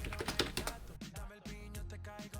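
Rapid keystrokes on a computer keyboard during a Google search, fairly quiet and running in bursts over music playing in the background.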